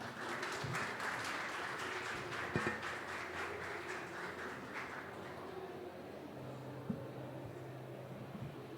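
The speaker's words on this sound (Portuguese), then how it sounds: "por favor, recebamos com uma salva de palmas a Ana Clarissa." An audience at a municipal cultural management event applauds to welcome a speaker, a steady wash of clapping lasting several seconds before thinning out, with faint voices and murmur underneath toward the end.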